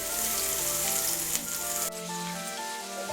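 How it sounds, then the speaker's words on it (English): Beef flank steak and young ginger sizzling in a hot wok, a loud steady hiss of frying that drops in intensity partway through, as if the meat settles or the heat eases. "Let it spread out and cook a little bit."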